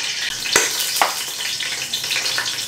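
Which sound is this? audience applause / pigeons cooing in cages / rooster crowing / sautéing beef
sautéing beef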